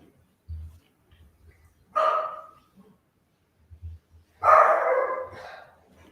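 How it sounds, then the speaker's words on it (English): Dogs bark in two separate loud bursts, a couple of seconds apart, with quiet low rumbling between them and no talking. "Oh, I hear the dogs again."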